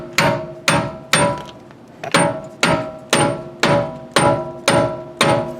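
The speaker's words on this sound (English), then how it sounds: "Just take a rubber mallet and do a little bit of convincing." A rubber mallet pounding a seized hub on a Nissan S13 240SX, nine evenly spaced heavy thuds about every half second, loud and close with no talking.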